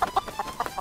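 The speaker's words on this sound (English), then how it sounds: "I just finished herding those chickens." Chickens clucking in quick, short bursts, several sharp clucks in under a second, close and moderately loud.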